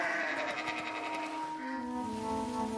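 Sheep and goats bleat close by, with one wavering, tremulous call flowing into a second, lower and steadier bleat, each standing alone with no voices.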